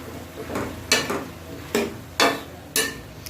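Potato pieces tipped into a pan with capsicum and sautéed, giving a light sizzle broken by four or five sharp scraping stirs and clatters at the pan.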